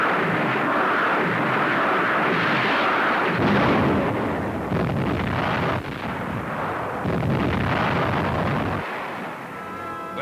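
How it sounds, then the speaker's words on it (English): Navy rockets firing at the beaches of Okinawa, a continuous loud roaring barrage of blasts and rumbling that stays dense and heavy throughout. "Rockets for just such targets as the beaches of Okinawa."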